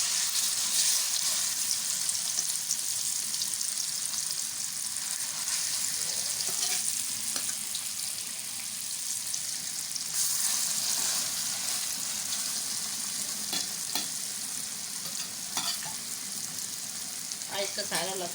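Pasandy meat frying in oil, a steady, loud sizzle and crackle that runs throughout with occasional stirring clinks.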